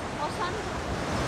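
Rough, churning sea surf at Marina Beach, Chennai, around the time of Cyclone Michaung: a steady, broad roar of breaking waves mixed with wind buffeting, continuous through the short stretch.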